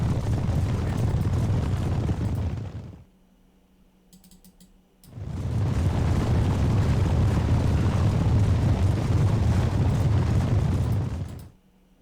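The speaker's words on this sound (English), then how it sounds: "There's not really anything I can do but fire my artillery." Artillery fires in the video game Sword and Siege: Age of Longbow as two long, loud, rumbling barrages, the second twice as long as the first, separated by a near-silent gap of a couple of seconds.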